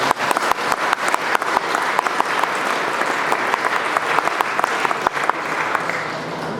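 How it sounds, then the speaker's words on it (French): At the prize-giving of the Rallye Classic Val de Nuit 2020 classic car rally, the audience claps loudly for the rally partners, with sustained close applause and crisp individual claps standing out throughout. "Donc on va les applaudir, tous ces partenaires"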